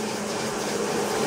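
A vacuum cleaner runs in a pipe-making workshop, a steady loud droning roar with a hum underneath, continuous and close for the whole moment with no talk.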